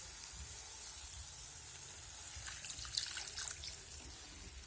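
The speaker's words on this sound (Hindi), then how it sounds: "यहाँ पे मैंने आधा गिलास पानी डाल दिए हैं।" Half a glass of water poured into a pan of frying spinach kadhi, a soft trickling splash over gentle sizzling, faint and close.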